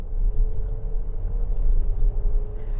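A midsize SUV's engine drones under acceleration as a steady, loud low rumble that swells slightly, with no voices over it.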